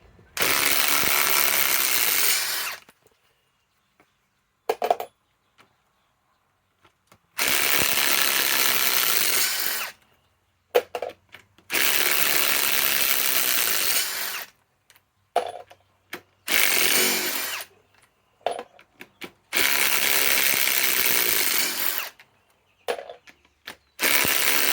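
Ryobi PSBIW25 compact impact wrench running on an 8 Ah 21700 battery and loosening bolts on a 3/8 setup through a socket adapter. It fires in four long, loud, harsh bursts, each a few seconds long, with short rattling bits and quiet gaps between them.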